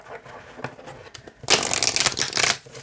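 A deck of oracle cards is shuffled by hand, with soft, scattered handling sounds at first and then a loud, riffling burst of shuffling up close that lasts about a second, with no one talking.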